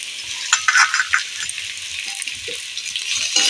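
Chopped onions and potatoes fry in a pan with a bright, continuous sizzle, broken by a few clinks and scrapes of stirring near the start and end.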